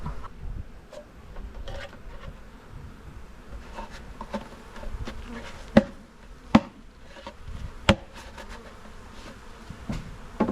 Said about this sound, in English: we just need to take these bees and stick them back in the hive